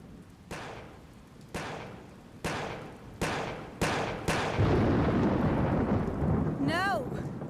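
Heavy thunder from lightning in a rainstorm, five deep booming claps rolling in one after another about every half second, each swelling louder over a steady roar of rain, with a short high sweeping tone at the end.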